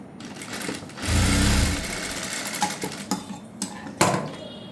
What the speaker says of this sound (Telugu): టర్న్ చేసుకొని పైన ఇలా ఒక స్టిచ్ వేసుకోవాలి